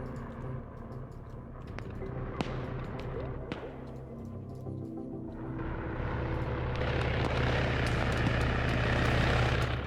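Helicopter rotor and engine drone from the video game Arma 3, a steady mid-distance rumble that swells louder in the second half, with a few sharp gunshot-like cracks early on.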